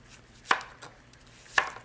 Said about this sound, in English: I have to cut up a real onion.